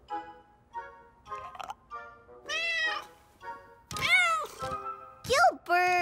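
A cartoon voice imitates a cat meowing, a string of rising and falling meows, close and clear, coming one after another with short gaps and growing louder and more drawn out toward the end.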